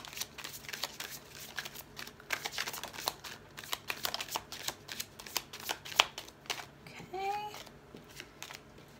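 Tarot cards shuffled rapidly by hand, a steady run of crisp riffling flicks close to the mic for several seconds, followed by a brief pause as a card is pulled.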